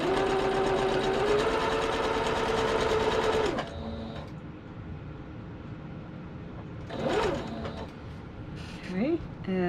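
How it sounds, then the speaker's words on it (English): A sewing machine hums in a steady, loud run while chain stitching quilt pinwheel pieces, then stops, leaving quieter handling noises and brief chirpy sounds. "chain stitching them as I go."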